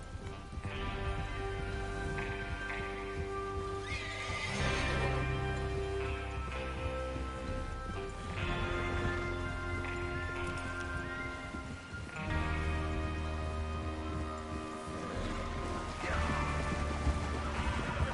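Horses whinnying repeatedly in the video game Red Dead Redemption 2, over a steady bed of continuous music and ambience, with faint hoofbeats mixed in.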